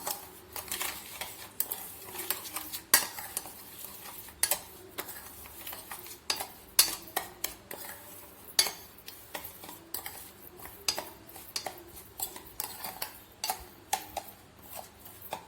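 A spoon mixing chocolate syrup ingredients with a pinch of salt in a bowl, a run of quick clinking and scraping taps against the container, close and fairly quiet with no voices.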